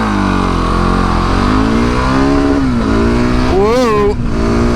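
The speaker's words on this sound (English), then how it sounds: "Let's try to do a 0 to 60 without falling off of the back of this thing or doing a wheelie." A big bore dual sport motorcycle accelerates hard from a standstill, its loud engine note climbing steadily through the gears with a shift near the end, heard up close with wind noise.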